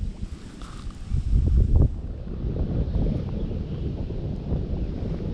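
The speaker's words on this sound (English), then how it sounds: "The wind's blowing me that way too." Wind gusts across a lake around a small fishing boat, buffeting the microphone as a steady broadband rush that swells louder for a moment early on, then settles into a constant roar with no voices.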